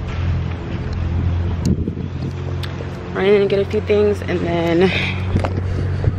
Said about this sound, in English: it's so windy out here, I don't even think y'all can hear me